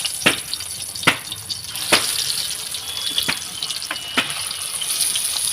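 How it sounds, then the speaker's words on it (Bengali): Eggs frying in hot oil give a steady bright hiss, with several sharp crackling pops spaced about a second apart. It sounds close and fairly loud, with no talking. "আমি ডিমটা তেলে ছেড়ে দিচ্ছি"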